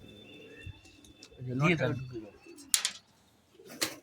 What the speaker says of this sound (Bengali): এই নর পায়রা ছাড়া হলো।